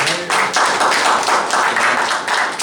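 Rhythmic clapping at an Urdu poetry gathering, close and fairly loud, with regular pulsed bursts suggesting a small group clapping in unison for a couple of seconds, without talk.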